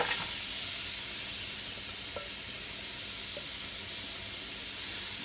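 Red and yellow onions sizzle in a hot, dry pan with no oil, giving a steady, close hiss that barely changes, with a couple of faint clicks partway through.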